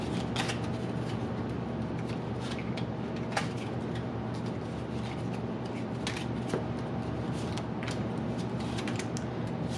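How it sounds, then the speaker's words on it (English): Playing cards being given a Klondike shuffle through the whole deck, a steady run of soft, rapid riffling and sliding clicks up close with no talk. "we're gonna do a quick shuffle called the Klondike Shuffle"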